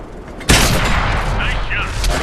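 A single heavy tank gun blast in World of Tanks, fired from a Stug III Ausf. B German tank destroyer, a sudden loud boom followed by a long rumbling tail of echo and debris.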